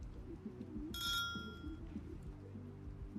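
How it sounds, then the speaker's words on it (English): A doorbell chimes once at a house door in the game Rue Valley, a bright ringing tone that lingers about a second over a low rumble of distant party music. "Ring the bell again."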